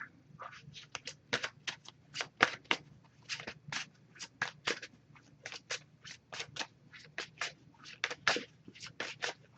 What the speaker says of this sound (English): I'm just going to pull a single card from this one.